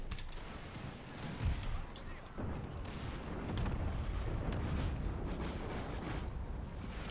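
Distant artillery and musket fire on a battlefield in Empire: Total War, a continuous rumbling wash of booms and crackling volleys at moderate loudness with no clear individual shots.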